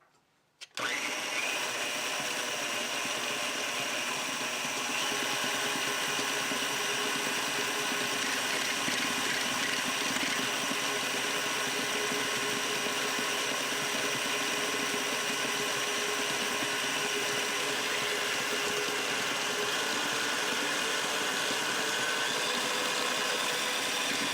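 An electric mixer beats butter and sugar together for chocolate biscotti, a steady close whirring drone that starts abruptly and runs unbroken throughout.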